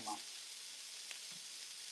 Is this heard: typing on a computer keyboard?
no